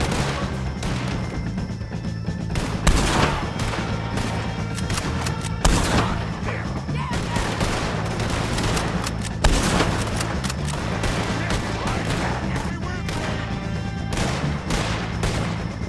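A gunfight against O'Driscolls in the video game Red Dead Redemption 2, with dense, continuous gunfire, repeated close shots and heavier booms layered over a sustained background din.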